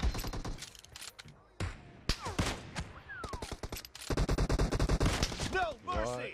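Bursts of automatic gunfire from a PUBG Mobile deathmatch crackle in rapid volleys separated by brief pauses, mixed with game effects and close, loud shots.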